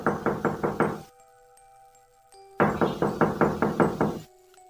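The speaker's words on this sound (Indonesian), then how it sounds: "sebuah ketukan pelan terdengar dari balik dinding kayu kamar mandi. Bukan ketukan pintu, tapi lebih seperti ketukan jari pada papan kayu" Soft finger knocks on a wooden board wall in a bathroom come in two close bursts of about five and seven quick, evenly spaced raps, with a quiet pause between.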